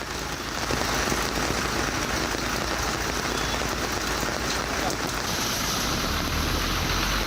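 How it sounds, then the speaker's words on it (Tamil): Heavy rain falls steadily and unbroken over the Sendurai area of Ariyalur in Tamil Nadu, a dense, loud hiss of drops hitting the ground with no break and no voices. "அரியலூர், ஜெயங்கொண்டம், செந்துறை, மருவத்தூர், கொழும்பூர் பகுதிகளில் மழை பெய்தது."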